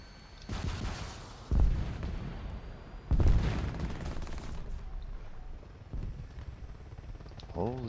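Bursts of artillery fire from self-propelled anti-aircraft guns aimed at a MiG-15 in a flight combat video game: two heavy booming impacts amid rumbling engine noise, with sustained gunfire texture and a voice talking over it.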